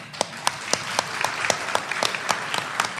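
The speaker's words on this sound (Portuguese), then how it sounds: "Uma salva de palmas" Applause from a conference audience thanking the speakers of a final panel session: a dense, steady patter of many hands clapping at close range, with a few sharper claps standing out.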